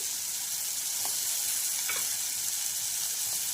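Spice masala with cashews sautés in oil, giving a constant close hiss of sizzling with a couple of faint stirring clicks. There is no talking.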